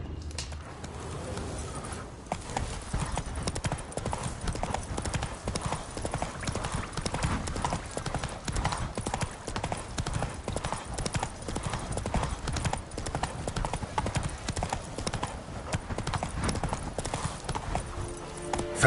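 Horse in The Witcher 3 video game galloping with steady, rapid hoofbeats that run continuously and fairly quietly for the whole stretch.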